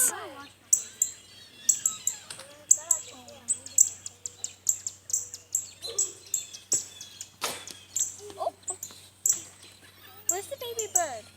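A baby robin chirps outdoors near a fence with many short, high, repeated tweets in an uneven rhythm. Other faint bird calls sound in the background, and people talk softly at times.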